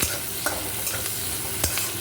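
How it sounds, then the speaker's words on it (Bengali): Chopped onions frying in hot oil with garam masala powder and dried red chillies, a dense continuous sizzle close by, broken by regular scrapes of a spatula stirring the pan, with no voices. "একটু ভাজা ভাজা মতন হয়ে যাক"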